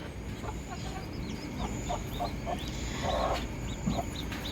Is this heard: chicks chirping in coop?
yes